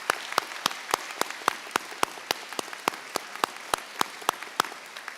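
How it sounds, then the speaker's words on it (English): An assembly audience applauds the Cum Laude Society student inductees at a school awards ceremony, a continuous patter of many hands with distinct sharp claps recurring at a quick, even rhythm throughout. "Please join me in applauding this very distinguished group of students."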